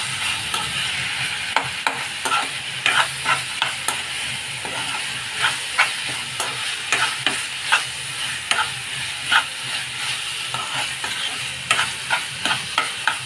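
Telangana curry with chili powder being stirred in a pan, a constant sizzling hiss with a regular series of spoon scrapes and taps throughout, no speech.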